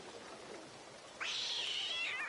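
A cat in Red Dead Redemption 2 gives a single drawn-out meow partway through, rising and then holding steady, heard clearly over quiet game ambience.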